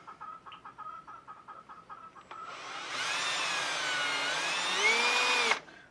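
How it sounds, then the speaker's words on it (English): A power drill drilling through metal whirs steadily for about three seconds, its pitch wavering under load, after a series of quick light clicks, then stops abruptly. "I'm going to go ahead, I think, and drill this one as well."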